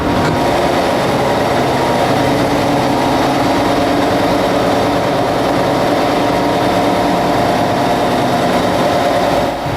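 A Liberty ship's triple expansion steam engine runs steadily, a continuous loud mechanical churn with a low rhythmic throb that holds without a break and with no voices.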